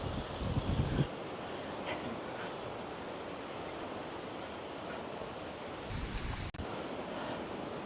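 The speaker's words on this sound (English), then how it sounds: "This wind is quite incredible." Strong wind buffeting on a beach by the sea, heavy blustery rumble and hiss with gusts, surf blended into the roar and a brief voice under it.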